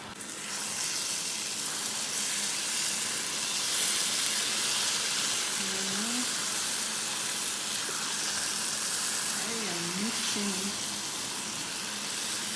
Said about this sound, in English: Let it fry more before I mix it all together.